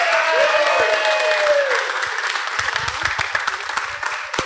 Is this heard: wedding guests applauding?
yes